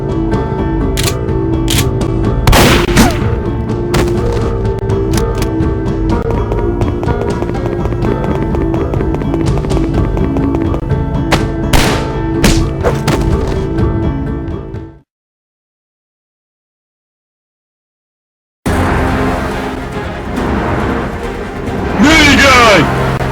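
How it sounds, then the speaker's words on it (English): Rapid, dense minigun gunfire from a Source Filmmaker animated Batman war battle, loud and close, keeps rattling for about fifteen seconds, cuts to silence, then resumes with sharp cracks and shouting voices. "Minigun!"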